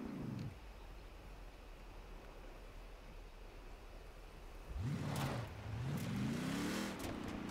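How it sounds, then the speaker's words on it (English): A 1975 Ford Bronco 4x4 in Forza Horizon 4 in winter, first idling as a low steady rumble, then revved in two or three rising and falling pulls, faint and without talk. "A nice powerful engine."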